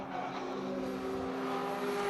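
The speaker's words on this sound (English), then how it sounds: "Car number 89, Ryan in that Mazda Miata. That car is flying quick." A Mazda Miata race car speeds past on the Buttonwillow circuit, its engine a steady, sustained mid-range drone that builds slightly, heard alone without voices.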